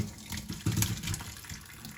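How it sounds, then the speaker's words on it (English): Pasta cooking water pours from a pot into a kitchen sink during Thanksgiving dinner prep, a fluctuating splashing gush that swells in the middle, fairly close and with no voices. "going to drain all the water."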